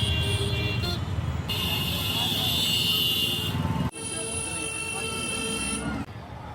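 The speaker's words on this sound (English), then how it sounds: "The streets are always so loud with the sound of tuk-tuks and cars." Busy New Delhi street traffic of tuk-tuks and cars roars steadily, with long insistent horn blasts layered over the engine din and voices talking throughout.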